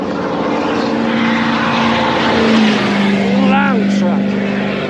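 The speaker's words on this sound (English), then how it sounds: "loud truck" A loud heavy vehicle passes by on the street during a long city walk, its steady engine drone swelling and then easing, with a faint pitch-sweeping tone partway through.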